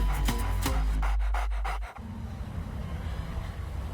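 A dog pants rapidly and loudly up close for about two seconds, then quiet background hum and light noise follow.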